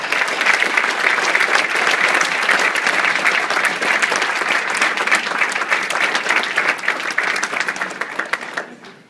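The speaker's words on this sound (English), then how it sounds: "Let's hear a round of applause." Loud, close round of applause from an audience at an award presentation for a young football player, dense and steady throughout before tapering off at the very end.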